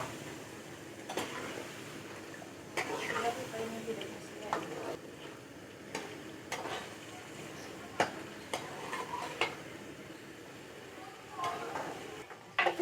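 Raw chicken frying in oil and ghee in a karahi, a steady soft sizzle under frequent clinks and scrapes of a utensil against the pan, while a person talks throughout.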